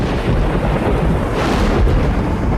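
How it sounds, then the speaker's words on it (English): A violent island thunderstorm with torrential rain: a dense, steady roar of heavy downpour with deep rumbling thunder underneath, loud and continuous with no voices. "whipping up the sea, bringing torrential rain, violent thunderstorms"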